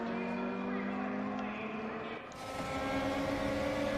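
A DTM race car in Raceroom runs with DRS open at Watkins Glen, giving a steady high whirring engine tone heard from inside the car that shifts midway, under commentary.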